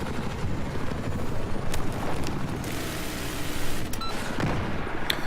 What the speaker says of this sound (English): He will have his helicopter Ronnie to help him out quite a bit as Muka is spawning in as well.